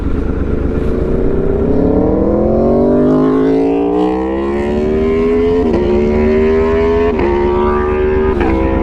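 An Aprilia Tuono motorcycle engine revs loudly and continuously nearby, its pitch climbing steadily with a few sharp blips and gear shifts toward the end, with no talk over it.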